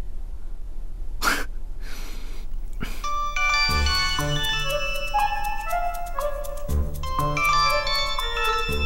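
An elevator arrival chime plays a bright, multi-note electronic melody. It starts a few seconds in after some breaths and soft rustles, then repeats its ringing tones loudly and clearly to the end. No one speaks.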